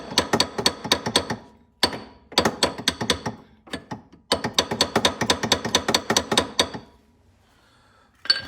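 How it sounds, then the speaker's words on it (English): A brass bar hammers on the pin of a Polaris Sportsman front hub in bursts of rapid, sharp metallic blows with brief pauses between them, close and loud with no speech. "a brass bar so that I don't bust up the end of the pin"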